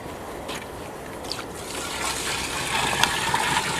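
Medicine solution poured from above over wheat straw packed in a drum for oyster mushroom cultivation, a soft continuous splashing and trickling that swells slightly louder toward the end.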